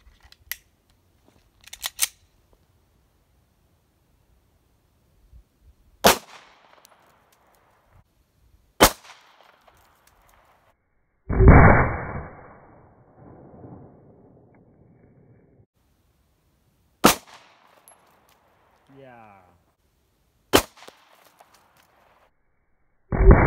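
Handgun shots fired outdoors into a watermelon: several sharp, loud isolated cracks spaced seconds apart, with one longer burst of noise trailing off in the middle and quiet wind between shots.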